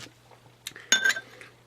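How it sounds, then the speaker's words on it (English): Beck's beer from the original green bottle pours into a glass, with a few clear glassy clinks and a short splashing pour burst, close and fairly quiet with no talk. "I'm not going to pour it straight down this time."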